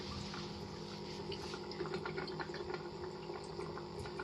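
Water gushes and gurgles continuously as an aquaponics grow bed drains and flushes, a steady close bubbling rush with small splashes and no voices.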